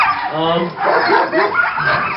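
Sled dogs at a Denali homestead tow line yip and whine excitedly, close and loud, in a short overlapping burst of excited vocalizing.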